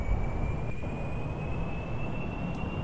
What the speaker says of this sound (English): Yep, engine's firing away. Going to throttle up,